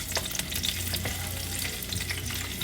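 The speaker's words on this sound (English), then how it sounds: "we're going to add in our ginger and garlic. Like this. Fry this a little bit." Ginger and garlic fry in a pan for pepper chicken masala, a loud close sizzle with frequent spatter pops and stirring scrapes, continuous with no speech.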